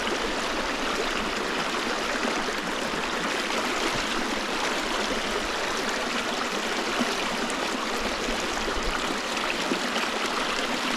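The East Dart river on Dartmoor flowing through gorse-lined banks, a steady, dense rushing of water close by, constant and unbroken with no voices.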